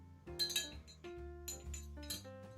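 A spoon stirring a mint cocktail in a glass, giving several bright, ringing clinks in uneven bursts, close and fairly quiet with no talking.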